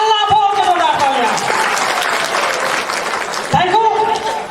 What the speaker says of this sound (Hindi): हल्ला बोल के जोरदार तालियां।